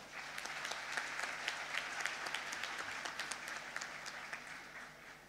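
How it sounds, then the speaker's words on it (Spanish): An audience claps and applauds steadily for several seconds, a dense patter of many hands at moderate distance with no voices standing out. "Bienvenido, Oscar, un fuerte aplauso para él."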